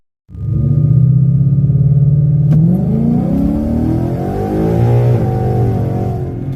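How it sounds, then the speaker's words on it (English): A 2013 Ford Mustang GT with a 6R80 automatic does a long, loud burnout to heat its tires, the engine holding a steady high drone and then climbing in pitch with no talk over it. "Make sure I do an even slightly bigger burnout and get a good cleanup"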